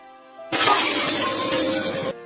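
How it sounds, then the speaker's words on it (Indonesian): A drinking glass is dropped and shatters in a sharp, loud crash, followed by more than a second of tinkling, scattering shards. No voices are heard. "membuat gelas yang dipegangnya pecah"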